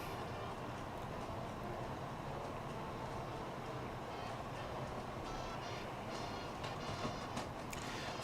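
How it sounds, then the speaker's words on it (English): A model train runs continuously at moderate level, a steady rolling rumble with faint clicking texture throughout, no voices over it. "I see you're running your train this time as I asked last stream."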